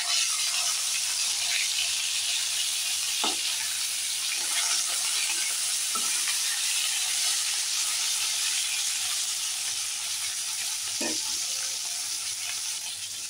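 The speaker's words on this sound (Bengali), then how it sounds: "এই দেখুন, পালক পেস্টটা দেওয়া হচ্ছে।" Spinach paste sizzles steadily in a hot pan for a home-cooked palak paneer, a constant bright frying hiss with a few soft clinks and stirs, no voices.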